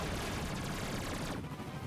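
Bomb-glove blasts in Ratchet & Clank on PS4 crackle as a dense, steady stream of overlapping explosions, fairly faint, with no talking.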